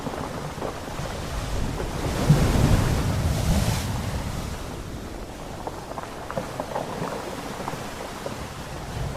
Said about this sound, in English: Big wave hits, jostles these thousands of bowling balls around.